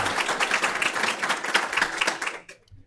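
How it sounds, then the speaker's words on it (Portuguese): Brief clapping from a small audience at a spiritist talk, a loose patter of hands for a couple of seconds that cuts off abruptly into near silence. "Palmas para vocês."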